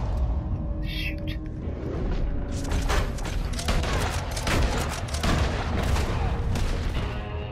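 Rapid bursts of gunfire in the Western game Red Dead Redemption 2, loud and close, firing repeatedly throughout with a voice talking over the shots.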